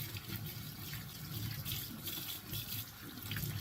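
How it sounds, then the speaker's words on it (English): Tap water runs steadily into a sink while green onions are rinsed, a soft continuous splashing with slight fluctuations as the stream hits the produce. "when doing green onions, you want to really rinse them off well"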